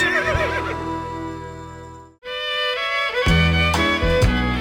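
Horse neighing in a GTA San Andreas country radio ad, a loud, wavering whinny up close that cuts off into a short pause, followed by bright twangy country music with other voices.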